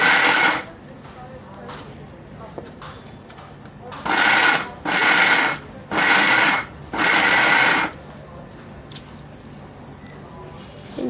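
A kitchen blender pulses ingredients into a fine powder, giving five loud, whirring bursts of about a second each, one at the start and four close together later, separated by quieter gaps.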